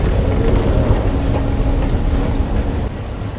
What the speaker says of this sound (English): the train we want is the Macarthur bound train, which leaves from platform 23